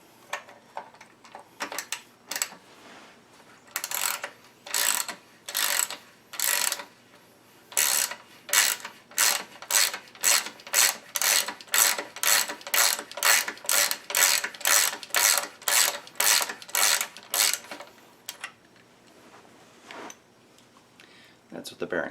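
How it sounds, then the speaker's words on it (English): A NordicTrack S22i bike's bottom bracket bearing is turned loose with a BBT-69.2 tool, producing a rapid series of sharp ratcheting clicks in steady bursts that speed up into a regular rhythm, close and clear with no talk. "to loosen the bearing you're going to spin it clockwise"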